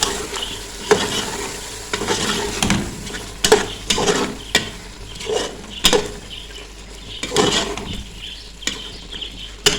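Beef korma with korma masala being stirred in a pan: a spoon scrapes and clatters in repeated strokes over a soft sizzle, close up with no talking.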